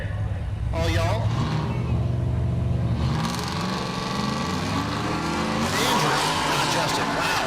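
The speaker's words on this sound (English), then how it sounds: "the Silverado is doing 330-foot burnout" A Chevrolet Silverado does a long burnout on a dragstrip at Rocky Mountain Race Week in Great Bend, Kansas, its engine roaring loud and steady with tire squeal, under an announcer talking over the PA.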